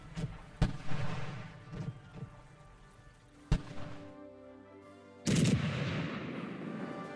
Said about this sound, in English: all we have are cannons on a fort firing with generic sounds every few seconds until the battle is over